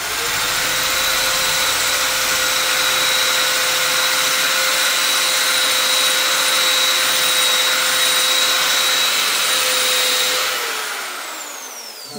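A power drill whirs steadily and loudly at close range while boring a hole, one continuous run of about ten seconds that winds down at the end, with no talking over it.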